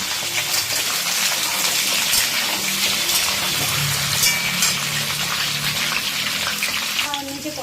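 Taro (arbi) pieces fry in hot oil with a dense, continuous bubbling sizzle like heavy rain, close and steady, with a brief clink near the end.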